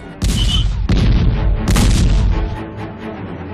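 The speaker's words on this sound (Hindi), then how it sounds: "इसलिए आर्टिलरी फायरिंग हो रही है, टैंक्स की आवाज को दबाने के लिए" Artillery fire during a tank regiment's advance toward Longewala, heavy booming blasts rolling out in a few loud, close reports with a rumbling tail fading away.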